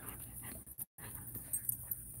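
Dog panting steadily with faint whimpers at close range, at a training kennel, with a brief dropout partway through.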